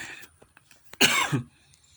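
A single sharp, close cough, preceded by a few faint clicks and breaths.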